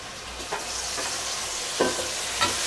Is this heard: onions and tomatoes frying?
yes